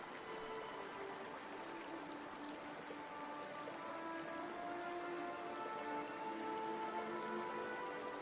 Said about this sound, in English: with the sound of water getting louder with every step